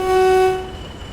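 A Class 40 diesel locomotive in Train Sim World 2020 sounds a loud, steady two-tone horn that holds for about half a second, then cuts off and leaves a rumbling hum.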